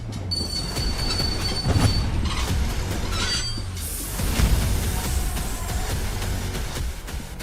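A train brakes toward a stop, its steel wheels squealing in loud sustained high tones over a rumbling rail roar, before the squeal gives way to a broad hissing screech.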